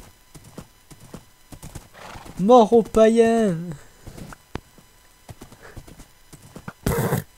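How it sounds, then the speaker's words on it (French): A horse in Minecraft clip-clops steadily with a loud whinny in the middle and a short burst of noise near the end, while people talk and shout over it. "mon fidèle destrier."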